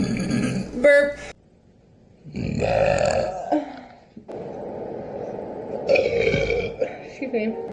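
Several long, loud human burps in sequence, deep and guttural with resonant drawn-out tones, separated by brief silences, close to the microphone.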